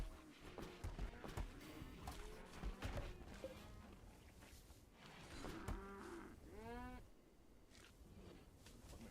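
Cows in the video game RimWorld let out a couple of drawn-out moos near the middle, over a busy low background with faint rustling and indistinct chatter early on.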